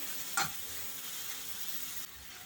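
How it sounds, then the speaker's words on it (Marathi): Sliced onion dusted with turmeric fries in a pan for egg biryani, giving a soft, steady sizzle with one sharp stir or scrape near the beginning, quiet and close, without speech. "त्याच्यामध्ये घालायचा आहे हा कांदा कांद्यावर घालते मी हळद छान परतून घेते"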